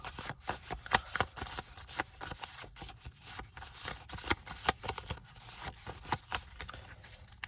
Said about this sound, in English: Shuffle these up, flipping some as you go.